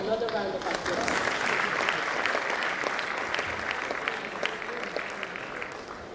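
A large audience at a doctors' swearing-in ceremony claps in sustained applause, a dense crackle of hands that stays loud for several seconds and slowly eases, with a voice faintly audible early on.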